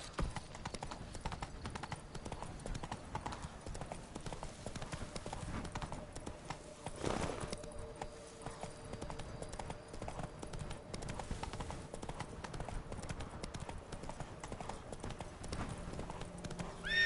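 Hooves clip-clop in a fast, steady gallop from Roach, the horse in The Witcher III: Blood and Wine, running throughout with a brief whinny-like burst partway and faint game ambience underneath.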